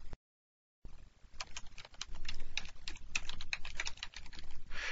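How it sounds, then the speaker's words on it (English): Typing code on a computer keyboard: after a brief silent gap, rapid, irregular key clicks and taps follow in a quick, steady stream, close and clear, with no talk. "I'll just type it in really quickly"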